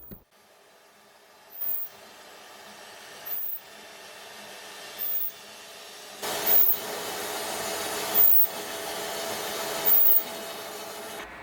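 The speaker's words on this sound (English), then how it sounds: "this is where the lips and barrels are drilled to the exact required PCD of the customer's order." Aluminium wheel lips and barrels being drilled in a factory, with six short grinding bursts at steady intervals over a continuous mechanical hum that grows louder partway through.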